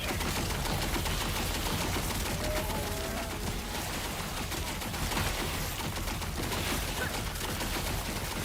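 Stygian Coal Lich spell in Last Epoch firing in a rapid machine-gun stream, dense crackling bursts repeating steadily and loudly throughout, without speech.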